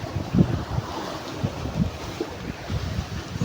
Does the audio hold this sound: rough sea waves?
yes